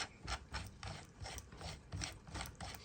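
A keyless chuck on a new power drill being twisted by hand, giving a steady run of rapid ratcheting clicks in regular bursts, close and fairly quiet with no talk.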